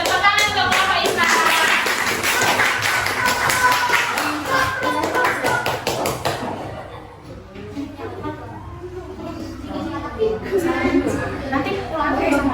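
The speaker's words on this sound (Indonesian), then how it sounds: "Beri tepuk tangan untuk kelompok Yusuf." A classroom of students gives a sustained round of applause for a student group during a lesson, dense clapping that thins and partly fades midway, then picks up again with children's voices mixed in.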